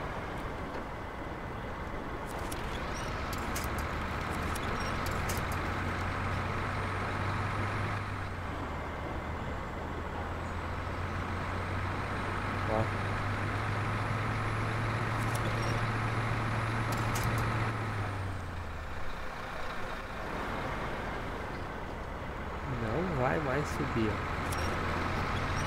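A Caterpillar 770G truck drives in SnowRunner, its engine a continuous low rumble that shifts pitch as it labours and eases. Occasional clicks and a rising whine sit over the drone, and a voice speaks at times.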